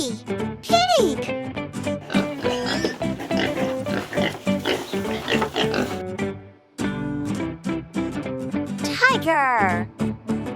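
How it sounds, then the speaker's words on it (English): A pig's oink sounds over a bright, steady backing of music, with a voice speaking in parts of the clip. "Pig."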